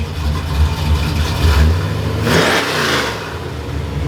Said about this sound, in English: you guys know how to get your exhaust notes on point